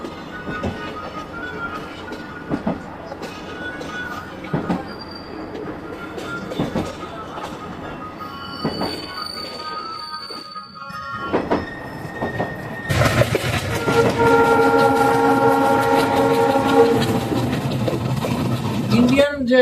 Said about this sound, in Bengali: এটা লোকোমোটিভ হয়তোবা পরবর্তী কোনো ট্রেনের জন্য